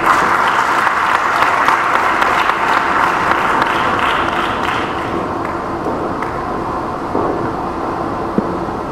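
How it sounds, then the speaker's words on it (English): Audience applause after closing remarks at a conference, a loud, dense burst of clapping that thins out and fades over about nine seconds. "Judging by the applause, I know the energy level is low"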